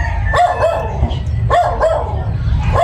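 Several dogs bark in two clustered bursts of sharp yaps, fairly close and loud over a steady low rumble of background noise.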